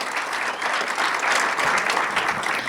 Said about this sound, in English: let's clap for that, all the businesses tonight